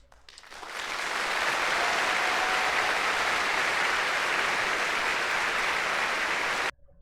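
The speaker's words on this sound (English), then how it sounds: "Just in case you guys wanted to hear some clapping" Crowd applause in the game Legend of Legaia rises quickly into a loud, dense, steady clapping that holds for several seconds, then cuts off abruptly.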